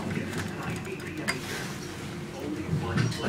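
Kone low-rise elevator door at the Marriott in downtown Manhattan closing, a steady mechanical creaking and whirring rumble with a brief knock midway and a firmer thud near the end.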